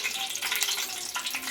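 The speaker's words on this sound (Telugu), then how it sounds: "ఒక స్పూన్ ఆవాలు వేస్తున్నా." Mustard seeds crackle and sizzle in hot oil as the tempering starts for a lentil curry, a steady bright frying hiss close to the pan with faint pops and no voices over it.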